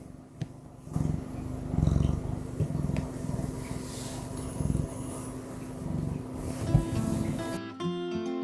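A cat purrs steadily and close by, a low continuous rumble with a slight pulsing rhythm, while rice or similar filling rustles faintly in the background and the sound cuts off abruptly near the end.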